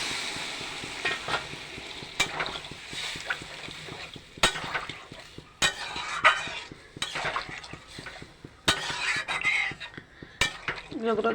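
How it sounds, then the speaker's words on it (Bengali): Water poured into a pan of frying potatoes for a soybean and potato curry sets off a busy sizzle, broken by clinks and scrapes of a utensil against the pan, close and fairly steady throughout. "বন্ধুরা এবার আমি জল দিয়ে দেবো।"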